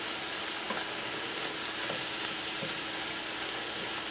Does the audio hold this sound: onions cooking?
yes